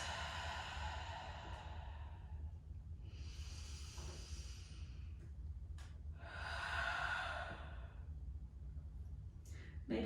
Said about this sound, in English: exhale, breathe it out. Long, slow breaths.